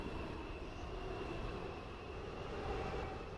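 A train departing a station in the Roblox railway game Stepford County Railway, a steady low rumble with a faint sustained whine, moderately loud and unbroken throughout, with no talking.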